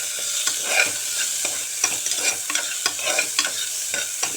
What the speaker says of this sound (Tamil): பெரிய வெங்காயம் கொஞ்சம் வதங்கின பிறகு அறுத்து வச்சுருக்கிற பீன்ஸ் அதில் சேர்த்திடுங்க